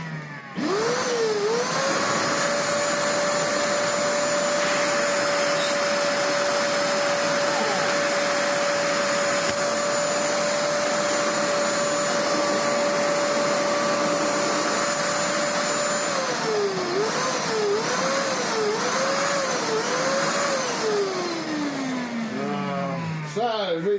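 A Vax Platinum Power Max carpet washer with no water reaching the floor head drones loudly and steadily, close by. Its pitch dips and wavers near the end as the motor winds down.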